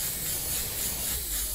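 An airbrush sprays Createx Candy2.0 red candy paint onto a Lightning McQueen model, giving a steady, close, continuous airy hiss with no pauses and no voices.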